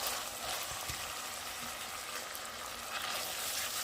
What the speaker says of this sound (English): Saute the onions and garlic on the stove top till they're just translucent